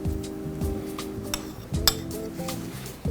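A metal knife clinks against a jar and dish while creamy peanut butter is scooped and spread, giving a few sharp taps and scrapes close by over quiet kitchen background.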